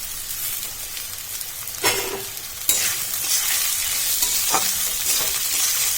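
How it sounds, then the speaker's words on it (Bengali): Flattened rice tossed into a pan where sugar has been frying: a steady, close sizzle runs throughout, broken by a couple of distinct stirring scrapes partway through, with no talking. "এ দেখো চিনি দিয়ে ভাজা হয়ে গেলো এবারে চিড়েটা দিয়ে দিচ্ছি"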